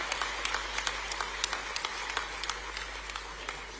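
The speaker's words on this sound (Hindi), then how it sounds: "एक बेटी Nikhat Zareen world champion boxing, उनका भी तालियां बजा के स्वागत कीजिए।" An audience at a sports awards ceremony claps to welcome world champion boxer Nikhat Zareen, a dense, even patter of many hands with sharper individual claps popping through, continuing steadily throughout.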